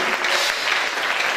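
Sustained applause and acclaim from an audience at a religious gathering, a steady, dense wash of clapping that fills the whole moment without a break.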